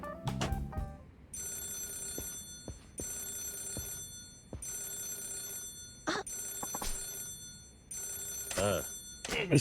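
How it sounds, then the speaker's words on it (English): An old-style telephone bell rings repeatedly in the Yakuza 0 video game, with several sustained metallic trills separated by short pauses and broken by brief clicks and thuds from game sounds. "could you get the phone?"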